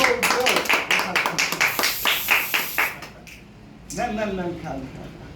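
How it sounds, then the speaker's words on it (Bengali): Audience applause at an indoor gathering, a run of distinct, fairly close claps in quick rhythm that stops abruptly, followed by a short stretch of talk. "করতালি করতালি"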